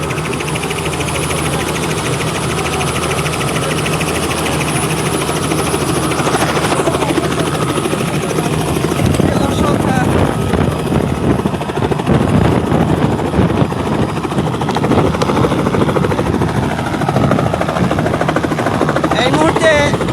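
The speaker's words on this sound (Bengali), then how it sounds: "প্রস্তুত হেলিকপ্টারটি উপরে ওঠার জন্য।" A helicopter getting ready to lift off at a Sylhet resort, its engine and rotor roaring loud and close with a steady throb that grows stronger and more chopping partway through.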